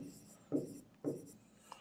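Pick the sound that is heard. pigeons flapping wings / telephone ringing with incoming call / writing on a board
writing on a board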